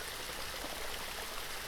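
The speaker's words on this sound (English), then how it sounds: "You follow the stream along, listening to its gentle trickle as you do so." A gentle stream trickles and burbles steadily, a soft continuous wash of running water without breaks, fairly quiet and close, layered in an ASMR setting.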